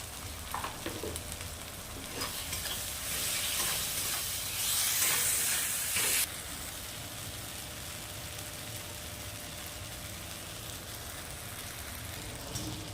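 Turmeric and chilli powder sizzle in a frying pan of oil, a soft steady hiss that swells louder for a few seconds midway before dropping back to a quiet, even fry.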